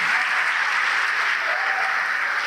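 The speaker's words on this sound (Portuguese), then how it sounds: "E vamos aplaudir o Senhor" Church congregation applauding, a dense continuous roar of many hands clapping, loud and steady throughout.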